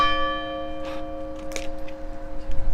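A church bell rings with long, sustained tonal overtones that hang in the air, with a few faint clatters and soft noises over a low background rumble.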